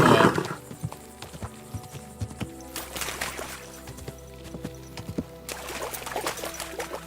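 Horse hooves in the Kingdom Come: Deliverance II video game, a run of soft, irregular clip-clop thuds under a steady low background, with a couple of brighter rustling bursts along the way.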